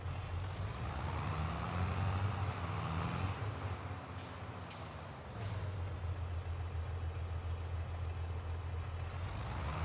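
A truck engine idles in the video game Farming Simulator 22, a steady low drone with a brief hiss of air release in the middle.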